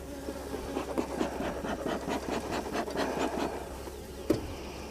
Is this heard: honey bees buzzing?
yes